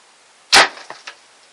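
Homemade crossbow bolt striking a target filled with chocolate bars, one sharp loud thwack followed by a few quick faint rattles as the impact settles.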